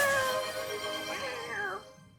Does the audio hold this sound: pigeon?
no